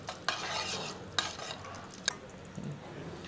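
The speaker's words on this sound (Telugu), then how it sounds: "దీన్ని లైట్గా ఫ్రై చేసుకుందాం" Whole spices (caraway, cloves, a piece of cinnamon, bay leaf and four or five cardamom pods) fry lightly in a pan, giving a steady soft sizzle broken by a few sharp spoon scrapes, with no talking.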